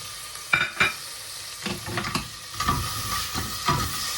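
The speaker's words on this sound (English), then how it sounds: "of olive oil in the saucepan, and then we add our onion" Onion fries in olive oil in a saucepan, a loud close sizzle with several sharp scraping stirs and bursts of hiss spaced across the clip, no voices.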